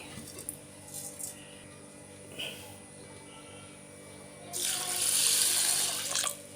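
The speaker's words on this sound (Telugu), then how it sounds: "ఇందులో నీళ్లు పోసుకొని శుభ్రంగా 2-3 సార్లు నీట్గా కడుక్కోవాలి" Water runs from a tap into a bowl of mixed lentils being washed: faint trickles and clinks at first, then a louder steady rush of water for the final couple of seconds, with crickets chirping softly in the background.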